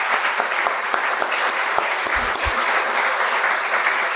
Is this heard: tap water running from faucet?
no